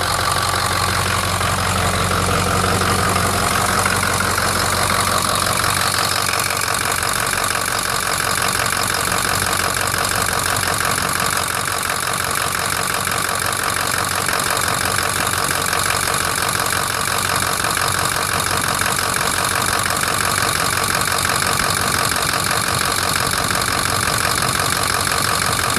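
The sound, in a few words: Ford 6.0L diesel engine idling with a blown cylinder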